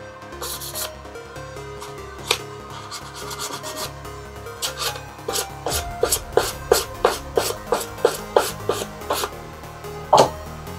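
A blue edge profiler trims PVC edge banding on melamine board in a series of close, rasping scrapes that grow into a quick rhythmic run of strokes, heard alone without talk.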